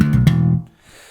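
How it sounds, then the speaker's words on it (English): A single short slap bass figure using cross hammering, with a couple of quick percussive plucked notes ringing briefly before cutting off into near silence. "The next section of the riff features a technique called cross hammering and sounds like this."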